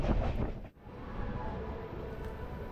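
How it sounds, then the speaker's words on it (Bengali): Sleeper class train carriage running between Kolkata and Varanasi, a continuous rumbling roar of wheels and wind with a brief dip in the middle, steady and close. "সুন্দর সুন্দর ল্যান্ডস্কেপ এবং স্টেশন টপকে এগিয়ে চলেছে আমাদের এই ট্রেন"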